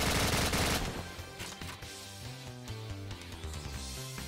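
Gun firing in a Roblox game: a dense burst of rapid shots at the start, then quick repeated bangs over rhythmic game music, loud and close, with no voices.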